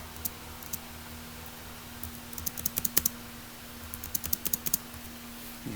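Quick bursts of typing on a computer keyboard, light clicking keystrokes in irregular clusters against a quiet steady hum, close by with no voices.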